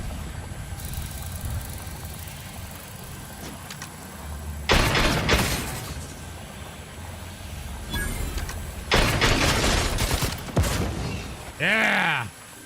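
Bursts of gunfire and a grenade blast from combat in the video game The Outer Worlds 2, loud broadband volleys around five and nine seconds over a steady low game hum, ending in a short ringing whoosh.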